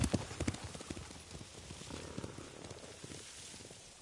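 Horse hooves clip-clop in Ghost of Tsushima, a quick run of hoof beats that is loudest at the start and then continues more softly under game ambience.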